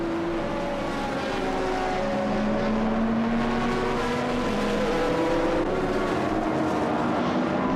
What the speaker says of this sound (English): here is the Spiker C8 Spider, the GT2 class car, and Donny Krevels at the helm